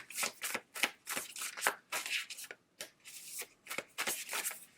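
Tarot cards are shuffled by hand in a run of quick, crisp riffling bursts with short pauses between them, close and fairly loud, with no talking.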